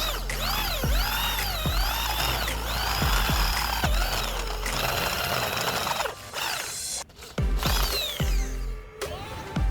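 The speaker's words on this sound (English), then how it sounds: "Then switch to a drill press with a 10 mm bit." A drill press with a 10 mm bit whirs and bends in pitch repeatedly as it cuts into metal bars, with rhythmic load dips and a few brief pauses near the end.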